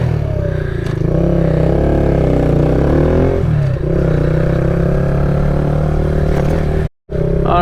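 Kawasaki Z125 Pro motorcycle revving hard and accelerating for a wheelie, a loud close engine whine that climbs and dips through several rises in pitch, cut briefly by a sudden drop near the end before roaring back.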